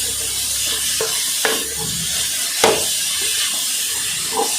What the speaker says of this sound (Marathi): छान असं हे परतून घ्यायचं आहे.